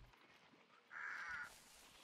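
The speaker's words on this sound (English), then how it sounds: "Oh, crows." Crows caw in the Hunt: Showdown game world, one loud harsh call lasting about half a second over quiet ambient background, no voices.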